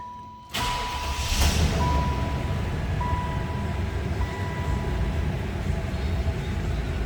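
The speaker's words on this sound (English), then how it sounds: "That was a cold start." A 1995 Buick Roadmaster engine cold-starts with a sudden crank and catch, then runs at a steady, even idle; a faint chime tone repeats over the hum.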